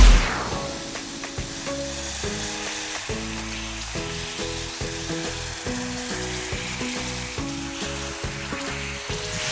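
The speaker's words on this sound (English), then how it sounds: "add the roughly blended pepper mix. Stir and allow it to cook uncovered for about 2 to 3 minutes" A roughly blended pepper mix frying and stirred in a pot for Nigerian fish okra soup, a steady sizzle under a loud, rhythmic music track that dominates throughout.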